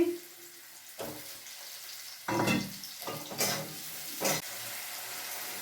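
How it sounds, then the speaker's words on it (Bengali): Whole cumin and chopped tomato fry in hot oil, giving a soft steady sizzle broken by several louder bursts of clattering stirring. "এই যে সাদা গোটা জিরে ফোড়ন দিয়ে দিচ্ছি টমেটো কুচি দিয়ে দিচ্ছি"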